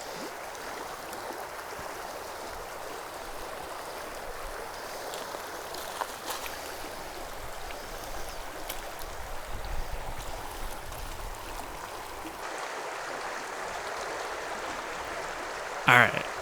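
River water flows steadily through a Colorado canyon, a continuous rushing wash with a slightly louder splash near the end.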